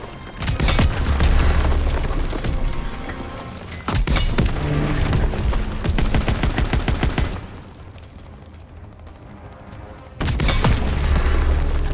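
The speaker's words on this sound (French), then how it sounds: "Un Panzer Shrek nous tire dessus." Loud game battle in Call of Duty WWII with a Panzerschreck rocket launcher firing: repeated heavy booms and blasts mixed with rapid machine-gun bursts, a quieter lull near the end, then a fresh explosive roar.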